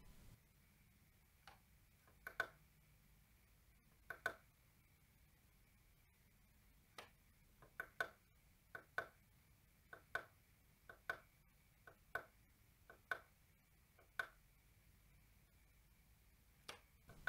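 A homemade 16-bit computer ticks in faint, sharp clicks, irregularly spaced but growing more frequent, heard alone against a quiet background hiss.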